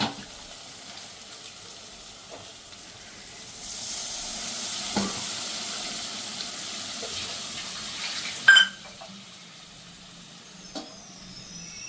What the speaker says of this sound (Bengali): বন্ধু, তো আমি অল্প একটু জল দেবো এটাতে, কেন কচুরলতিগুলো তো সিদ্ধ হবে।